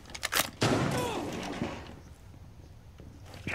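Gunfire in the video game Rainbow Six Siege, played in a team deathmatch on the Bartlett University map: a few sharp shots, then a loud burst with a lingering echoing tail, set against a low background hiss.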